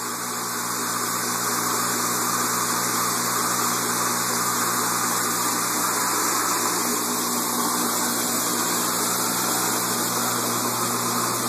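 A water pump pushes saltwater through a homemade bio sand filter for a frag tub, a steady rushing, splashing flow over a constant low mechanical hum, loud and unbroken.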